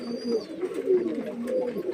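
Pigeons coo steadily and close by while pecking at scattered paddy grain, the low throaty calls overlapping in a continuous murmur with no talk.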